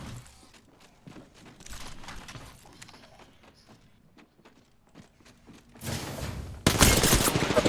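Gunfire in the Apex Legends video game, with scattered shots and impacts building to a loud, dense burst of firing near the end.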